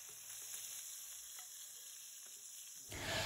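Pointed gourd (potol) fries gently in oil on lowered heat, giving a soft, steady sizzle that swells louder near the end.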